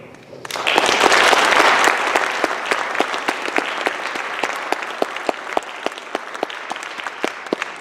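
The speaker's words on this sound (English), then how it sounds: "I just want to give a really big round of applause to them" An audience gives a big round of applause for student panelists from a climate justice group, a dense burst of clapping that swells quickly, then thins into sparser, distinct claps that fade out.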